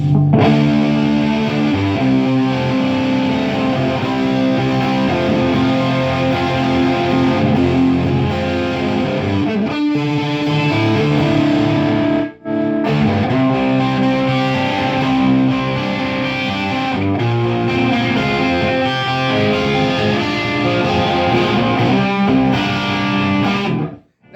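Distorted electric guitar through a Kasha Rockmod II preamp plays continuously, thick and loud, with sustained chords and notes ringing out, briefly cutting off twice before resuming.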